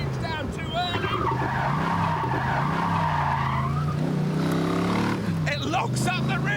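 A Datsun's rear tyres lock up and squeal in a long wavering skid on a racetrack, loud and close, with engine noise underneath and a voice talking over it.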